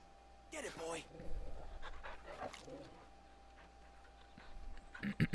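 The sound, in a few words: dog companion panting in Final Fantasy XVI video game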